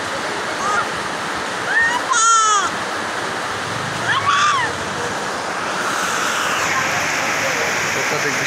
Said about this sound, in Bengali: বৃষ্টি কি অত্যাধিক, মানে এত বৃষ্টি পড়ছে সে বলার মতো না।